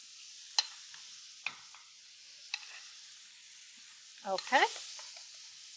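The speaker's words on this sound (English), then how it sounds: "we'll turn it over and sear it on the other side" Cod fillet sears in a pan for a garlic butter dish, a faint steady sizzle broken by a few sharp utensil taps and a louder scrape near the end as the fish is turned, with one brief spoken word.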